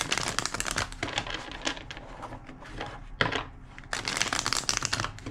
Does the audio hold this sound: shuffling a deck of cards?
yes